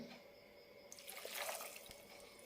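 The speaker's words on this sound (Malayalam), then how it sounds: "നെല്ലിക്ക സൈസിലുള്ള പുളി കുതിരനിട്ട ശേഷം എടുത്ത വെള്ളമാണ് ഇത് ഒഴിക്കാം" Tamarind-soaked water pours into a pot for sesame curry in a soft, steady splashing stream, close and fairly quiet, with no talking.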